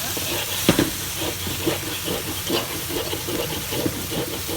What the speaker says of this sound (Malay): Dengar tak bunyi meletup-letup tu?